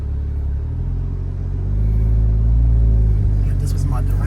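A Porsche Cayman S drives through tight turns on a course, its engine rumbling low and swelling louder partway through, with people talking over the steady road noise.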